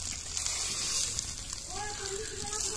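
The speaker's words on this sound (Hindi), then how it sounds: "मछली के मुड़ा फ्राई हो रहा है" A fish head fries in hot oil, giving a steady close hiss and crackle throughout, with a voice faintly present underneath.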